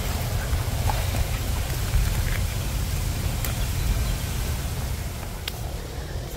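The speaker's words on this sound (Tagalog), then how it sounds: "Malakas na yung ulan." Heavy rain pours steadily on a farm ahead of a super typhoon, a dense, continuous hiss of drops with occasional sharper splats on nearby surfaces.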